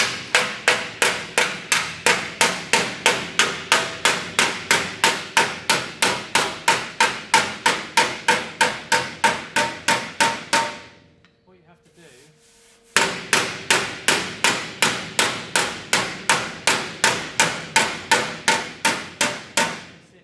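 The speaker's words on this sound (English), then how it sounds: "I'm just going to hammer and dolly it to get it a bit straighter" Rapid, steady hammer-and-dolly blows straightening welded steel on a Mk2 Escort wheel arch ring out close and loud, briefly pausing before the rhythmic striking resumes.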